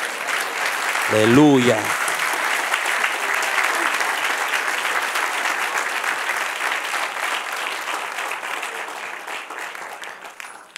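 A church congregation applauds loudly and steadily for the Lord, with one voice shouting a short exclamation near the start before the clapping slowly fades out.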